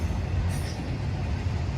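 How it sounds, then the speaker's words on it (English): A train runs alongside a road, a steady low rumble filling the whole stretch without a break, fairly loud and close, with no talk over it. "I just love the sounds of trains."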